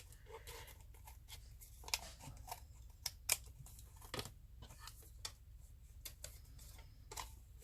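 Scissors snipping through paper and card while trimming ephemera embellishments, quiet and close, with sparse irregular cuts and small clicks against a soft background hiss.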